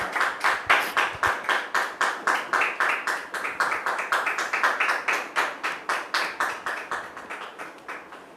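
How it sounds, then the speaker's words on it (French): A studio audience claps in rhythmic unison, with sharp regular beats about three per second, loud and close, gradually tapering off toward the end. "M. Germain Onokpo et sa fille Samira Quadio, que nous recevons sous vos applaudissements."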